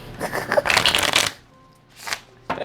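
Divine timing tarot-style cards being shuffled by hand, a quick riffling burst of papery flutter lasting about a second, followed by two shorter shuffles after a pause, close and crisp.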